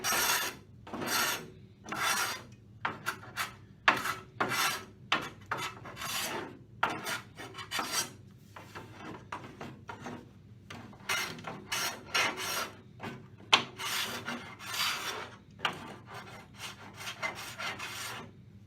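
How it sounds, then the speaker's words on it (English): A block plane shaves hardened adhesive on a Mirostone surface in quick repeated rasping strokes, close and uneven in rhythm, with short gaps between passes. "using a block plane, and in doing this you're just shaving the top of the adhesive"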